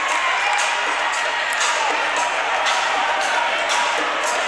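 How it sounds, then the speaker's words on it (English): Crowd noise at a Penn State Altoona versus Mount Aloysius college basketball game, a steady loud roar of fans during a late-game timeout, with faint intermittent squeaks or bounces rising through the din. "Crowd into it"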